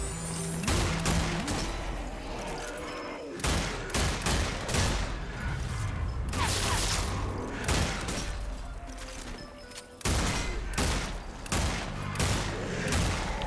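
Rapid bursts of gunfire and heavy shots in the zombie shooter Zombie Army 4: Dead War, loud and dense with short pauses between volleys and scattered impacts.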